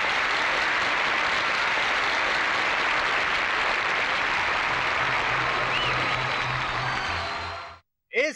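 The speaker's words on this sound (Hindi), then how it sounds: "एक बार फिर तालियों के साथ" A hall full of people claps steadily to welcome award guests at a college prize ceremony, dense sustained applause that runs for several seconds and then cuts off abruptly.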